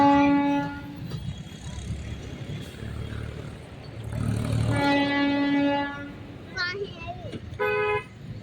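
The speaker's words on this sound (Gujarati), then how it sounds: "રેલગાડી આવી ગઈ છે।" A train pulls into Savarkundla station with several loud horn blasts over a heavy rolling rumble of wagons, and people's voices can be heard around the platform.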